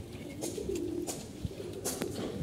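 A tournament racing pigeon and nearby loft birds give soft, low cooing phrases at close range over a steady murmur, with a few sharp clicks and rustles.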